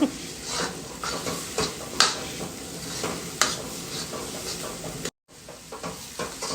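Chutney masala sizzling and frying in oil in a pan, a steady soft hiss broken by scraping stirs and occasional metallic clinks of the spoon, with one brief dropout.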